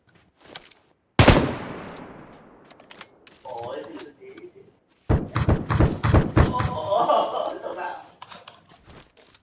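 Gunfire in PUBG Lite: a heavy single shot with a fading echo, then a rapid burst of automatic fire, with someone talking in between.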